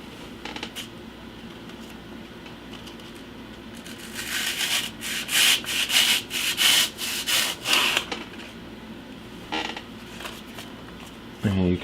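Serrated knife cutting and shaving insulation foam, heard as a run of loud rhythmic rasping strokes in the middle with quieter scraping before and after.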